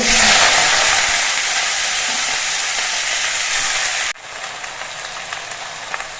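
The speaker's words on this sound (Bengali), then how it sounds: "এবার কড়াইতে দিয়ে দিয়েছি সর্ষের তেল সর্ষের তেলটা গরম হয়ে গেছে এবার এর মধ্যে দিয়ে আমি কচু পাতাগুলো" Taro leaves go into hot mustard oil with a loud, hissing sizzle that cuts off abruptly and drops to a softer, crackling fry.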